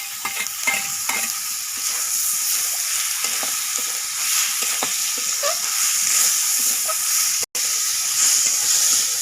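Chopped tomatoes hit a hot pan while cooking chicken with chana dal, giving a loud steady sizzle and hiss with scattered stirring scrapes throughout.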